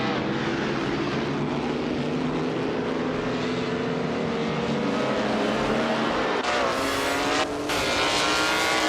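Race cars roar past on a track, engines whining and shifting pitch in overlapping waves, loud and close, with a sharp change as another car sweeps by near the end.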